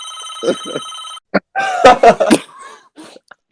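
A telephone rings in a room, with electronic ring bursts followed by coughing and laughter from people nearby.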